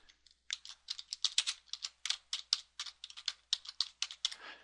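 Rapid clicking keystrokes on a computer keyboard, typed in quick uneven bursts and up close, with no voices.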